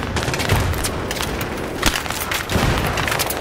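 Dense, loud bursts of rapid gunfire in Battlefield 3 multiplayer crackle continuously with booming impacts, a chaotic, sustained barrage without speech.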